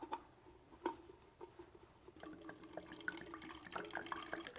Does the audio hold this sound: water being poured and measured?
yes